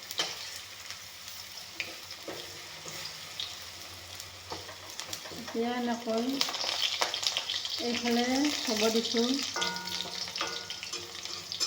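Okra frying in a hot pan gives a steady close sizzle throughout, with occasional stirring scrapes; a person speaks briefly over the cooking.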